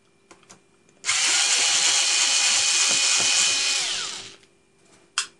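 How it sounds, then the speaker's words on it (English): Close and loud, a power screwdriver whirs steadily for about three seconds while backing a screw out of an HP Pavilion dv7 laptop case, then winds down, with light clicks and handling noise before and after. "Take all these screws out."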